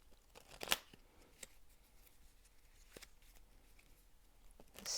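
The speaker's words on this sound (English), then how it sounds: "Let me just shuffle these a little bit first." Tarot cards being shuffled by hand, a few soft riffling bursts and brief crisp snaps spread over a quiet background, close and fairly faint with no talk.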